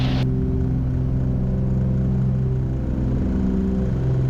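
Twin Cessna piston engines drone loudly and steadily in a low, even rumble inside the cabin, with no speech over it.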